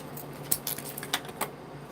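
Florist wire being cut to length with cutters, heard as a few sharp, brief clicks and snips spaced apart, close and fairly quiet with no talking.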